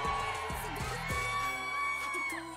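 Large crowd at a Filipino community gathering with the Philippine president, shouting and cheering loudly and continuously, with whoops and yells rising over a steady roar, and music playing underneath.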